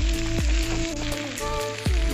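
Hot oil sizzles steadily in a pan after salt goes in for a fish curry, a loud continuous hiss with faint tapping and clinks of utensils against the pan, no voices.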